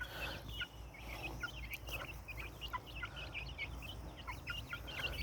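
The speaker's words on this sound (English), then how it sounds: "I get to look at the chickens" A flock of chickens clucks in soft, scattered bursts, a steady low chatter of many birds heard from a little distance over a constant low background hum, with no talking.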